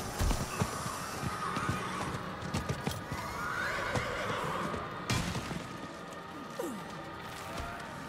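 A horse in the game Diablo IV neighs and whinnies several times over about eight seconds, close and prominent, with clip-clopping hooves and other in-game sounds underneath.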